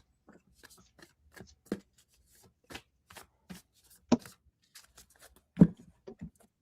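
New Moonology oracle cards being shuffled by hand, a string of soft, irregular riffling taps and sharper flicks that grow louder toward the end, close up in a quiet room with no voices.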